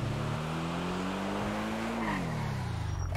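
A car in GTA V driven along a road in the game revs steadily with a rising then falling engine tone while its tires squeal continuously, loud and close, with no talking.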